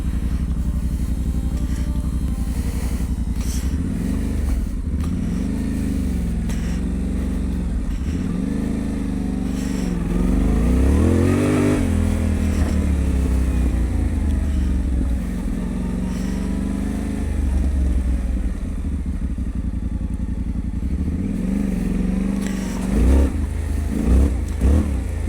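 Off-road motorcycle engine revving and pulling away, its note rising and falling over steady mid-range drone, loud and close with a stronger surge near the middle and no talking.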